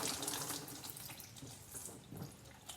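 Thin transmission fluid pours from the drain plug of a Honda Odyssey and splashes into a catch pan, a close, steady, watery gush with small spatters and no voices.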